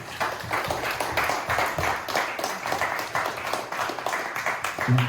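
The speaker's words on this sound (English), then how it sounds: "Let's give a round of applause for our speakers." Sustained applause from a tech event audience for speakers, dense overlapping claps with no break, fairly loud and steady throughout.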